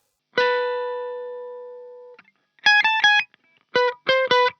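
A clean electric guitar with no effects plays a song riff: one long sustained note, then two bursts of short, choppy chords with brief gaps between them.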